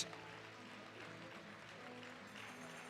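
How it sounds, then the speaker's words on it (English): Home crowd at a women's futsal friendly between England and Slovakia applauds the England players, a faint, distant wash of steady clapping filling the arena. "the England players here accept their ovation from this home crowd"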